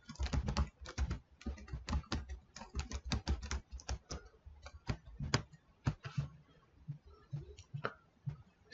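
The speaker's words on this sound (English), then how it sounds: "the chances of me typing all this in a correct manner without making any mistakes are probably not that good" Rapid typing on a computer keyboard, close and fairly quiet, with irregular bursts of key clicks and short pauses, no voices.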